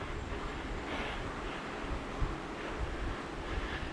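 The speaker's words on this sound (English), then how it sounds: "hopefully you can hear the river running below me." Steady rushing water of a river below with a broad, continuous roar, heard from a distance outdoors in Montana, with a little wind noise and no voices.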